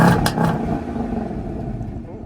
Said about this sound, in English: That was the Mustang GT without active exhaust, remote rev and cold start.